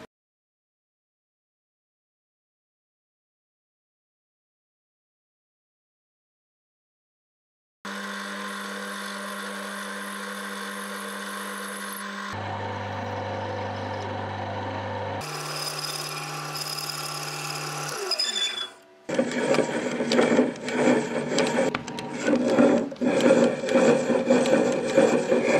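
Lathe turning an incandescent lamp with its glass bulb being cut off, the lamp clamped in the lathe chuck; silence, then a steady motor whine shifting pitch in stages before a loud, rough grinding scrape of cutting, with no talk.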